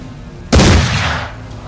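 A single loud, sharp gunshot from the video game Mordheim: City of the Damned bursts in suddenly and then decays into a long rumbling tail, with no talk over it.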